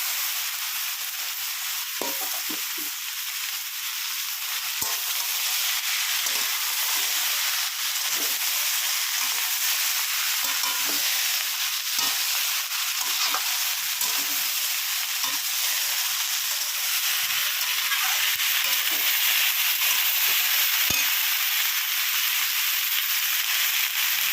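Ash gourd and dried red chillies fry steadily in a hot pan, a dense continuous sizzle and hiss with occasional soft stirring clicks, close and fairly loud with no talking.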